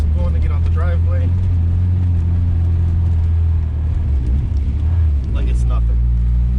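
A 1998 Honda Civic tuned on E85 drives out of a snowy driveway, its engine a loud, steady low rumble close by that swells slightly as it gains momentum.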